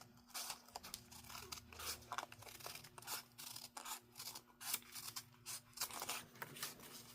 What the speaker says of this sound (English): A little harder to push those scissors